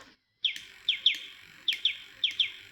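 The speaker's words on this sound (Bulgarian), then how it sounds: "едно красиво червеничко птиче, което започна да лети из цялата къща" A little red bird in a children's story chirps in bright, sharp tweets, coming in close pairs and singles across a few seconds, clear and alone against a quiet background.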